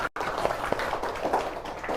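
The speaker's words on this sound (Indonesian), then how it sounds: "tepuk tangan sekali lagi" Classroom applause during an Islamic teacher-training lesson, a short run of steady clapping after a brief gap at the start.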